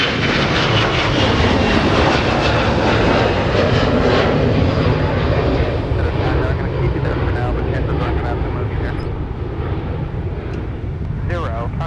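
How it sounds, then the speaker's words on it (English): A Delta Airbus A321 departing on the south parallel runway at Minneapolis–St. Paul airport roars with loud, sustained jet engine noise that slowly fades, while air traffic control radio chatter runs underneath. "we're going to get Delta departing the south parallel with an A321"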